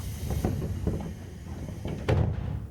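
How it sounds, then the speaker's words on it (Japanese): Train doors slide shut at a station platform in the Railfan Japan game, a soft rumble with a sharper thud near the end as they close, over steady background hum. "ドア閉まります。"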